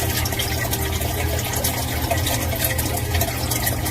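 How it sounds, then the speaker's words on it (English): Water pours steadily into an indoor sump pit chamber through drain tile at the footer, a dense continuous rushing and gurgling close by, with a low rumble and no voices. "You can hear it fill in the chamber."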